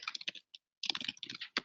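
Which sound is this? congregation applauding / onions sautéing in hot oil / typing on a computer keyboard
typing on a computer keyboard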